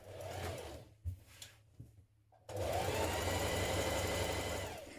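A sewing machine stitches a pocket onto a dress piece within the seam allowance, starting in short bursts with pauses, then settling into a steady close whirring run of several seconds.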